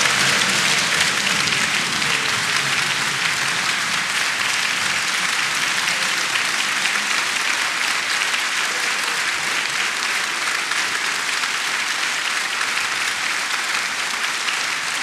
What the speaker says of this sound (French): Conforté par l'intensité des applaudissements,